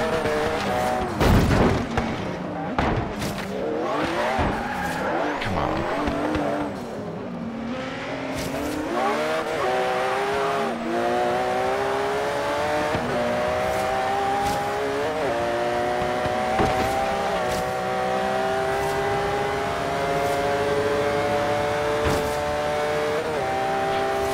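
A Porsche 930 races in Forza Horizon 3, its engine note rising and shifting through gears, with opponents' cars roaring past, a few thumps and brief tire noise, loud and continuous throughout.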